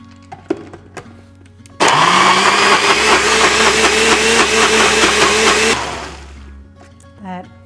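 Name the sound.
blender blending pesto with light olive oil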